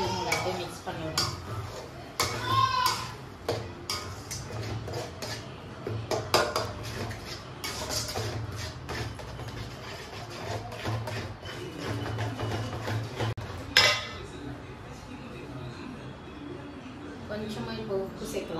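A spoon scrapes and clinks in a pan while turmeric is stirred into egg rice, with irregular close metallic taps and a voice talking over the stirring.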